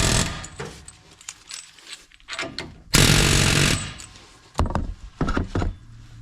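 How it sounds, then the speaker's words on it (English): A pneumatic air hammer fires in rapid bursts on a car's suspension ball joint, with a long loud hammering stretch in the middle and shorter rattling runs before and after. "So we use my air impact again, or my air hammer."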